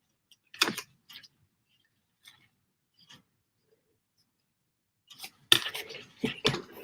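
Scissors snip through card in a few sparse, short cuts, then a quicker cluster of crisp snips close by toward the end, with no talking.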